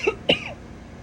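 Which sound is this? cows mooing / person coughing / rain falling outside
person coughing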